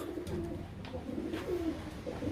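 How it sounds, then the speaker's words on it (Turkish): Racing pigeons coo repeatedly in soft, throaty bursts, several birds close together in a loft in Konya, with a faint chirp here and there and no talking. "Sadece kuş var burada arkadaşlar."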